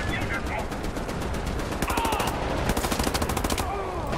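Rapid bursts of automatic gunfire in the shooter game Wolfenstein: The New Order rattle in quick, evenly spaced strings under game noise, with a player talking over them.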